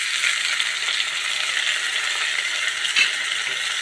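Chopped tomatoes go into onions already frying in a pan for an eggplant thokku, and a loud, close, steady sizzle hisses throughout, with one brief sharper clatter near the end.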